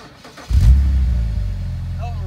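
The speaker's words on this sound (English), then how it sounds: "Can you rev the fucking car? This is all engine, no exhaust." A BMW engine with no exhaust fitted starts up and revs, a sudden loud raw roar that holds and settles into a rough idle, with people talking nearby.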